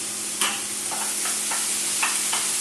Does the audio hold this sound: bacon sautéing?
yes